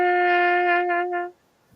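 A pocket trumpet played open without a Harmon mute sounds one sustained bright note for over a second, with a slight wavering at the end before it stops, close and clear.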